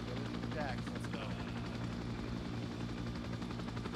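Video game helicopter with a steady rotor thump and engine drone filling the background at moderate level, with faint combat noise and radio chatter mixed in.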